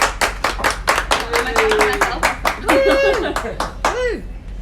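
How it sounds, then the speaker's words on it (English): A burst of clapping from a small crowd at a gin master class aboard the Queen Elizabeth cruise ship, with scattered laughter and voices chattering over it. "round of applause"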